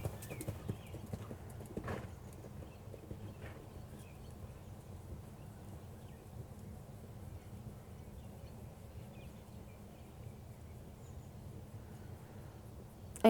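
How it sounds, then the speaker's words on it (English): Horse hooves clip-clop in a steady sitting-trot rhythm across an arena, moderately close and continuous, with faint background ambience and no talking. "trot again. Sitting trot."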